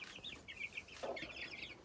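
Young chickens about a month old, chicks and cockerels, give soft, faint clucks and chirps in a short burst, close by and with no talk.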